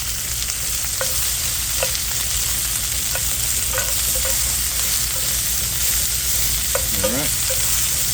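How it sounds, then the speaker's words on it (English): Onions and garlic sizzling in oil for chicken scarpariello, a constant loud fry broken by repeated scrapes and knocks of a spoon stirring the pan, and one brief spoken word. "onions, and garlic right here to the same oil. Okay. Mix around, break up these onions."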